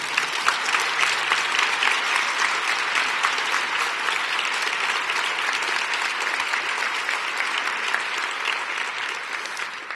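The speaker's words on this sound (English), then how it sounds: "a big round of applause for the FOSI team" Audience at a cyberbullying panel discussion applauding the FOSI team, a sustained, dense roar of clapping held at an even level for about ten seconds and tapering slightly at the end, with no voices on top.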